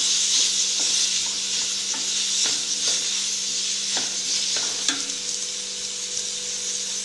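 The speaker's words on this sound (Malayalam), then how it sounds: "സവാള ഇട്ട് കൊടുത്തു. നല്ലൊന്ന് ഇളക്കി മിക്സാക്കി കൊടുത്തു." Onions fry in a pan with a constant bright sizzle, broken by soft scrapes and taps as a utensil stirs them every second or so. The sound is close and steady, with no voices.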